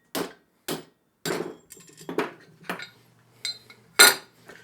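Several sharp knocks from a rubber mallet driven against a wooden block to drive an old bearing off a G0765 7x14 mini lathe spindle, spaced irregularly, close and clear with brief workshop ring between strikes.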